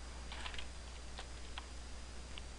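Light, scattered keystrokes tap on a computer keyboard, quiet and close over a steady low hum, a handful of irregular clicks with gaps between them.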